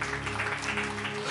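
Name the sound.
congregation applause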